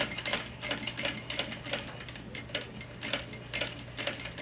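A Juki DDL 8700 industrial sewing machine back stitching while sewing a tablet clutch bag gives a rapid, even mechanical clatter of needle strokes, close up and steady for several seconds.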